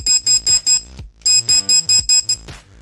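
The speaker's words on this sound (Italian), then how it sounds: "Quando noi premiamo il pulsante, sentiamo un beep alternato che ci fa capire che stiamo sparando." A Mattel BraveStarr laser toy gun fires in loud, rapid alternating electronic beeps, sounding in two bursts of several pulses separated by a short pause.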